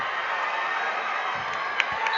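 A large crowd cheers and shouts steadily in a gym at wrestling state semifinals, a continuous roar at moderate distance with a few brief sharper whoops.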